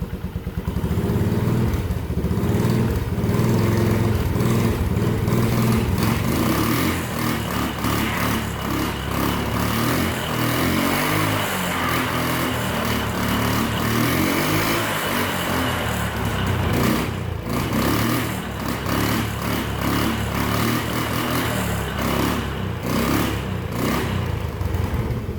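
A homemade side-by-side engine revs hard and roars loudly and steadily up close for the whole stretch, with rough clattering and surging tones, and no talk over it.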